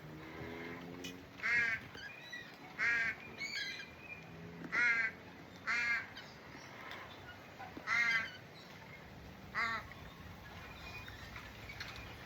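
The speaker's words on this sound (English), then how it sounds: "Baby Crow is so demanding." A baby crow gives a series of about eight harsh, demanding caws at fairly regular intervals, fairly close and loud against quiet outdoor background noise.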